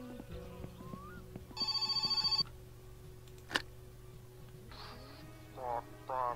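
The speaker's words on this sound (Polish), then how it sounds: "O, telefon." A telephone rings in the game My Summer Car, one electronic burst of trilling rings, followed by a sharp click and later shorter buzzing tones over a low steady hum.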